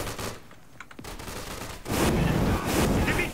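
Gunfire rattles in the video game Day of Infamy, a few sharp shots followed by a dense, loud burst of sustained firing that fills the last half.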